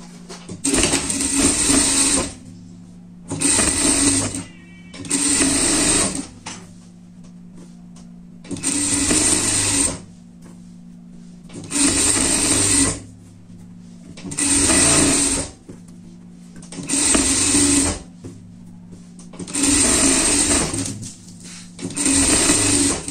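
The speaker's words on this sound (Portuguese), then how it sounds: "a gente vai passar uma costura aqui de fora a fora" A sewing machine stitching a seam across fabric runs in about nine steady bursts of whirring, each a second or two long with short pauses between them, close and loud, with no talking.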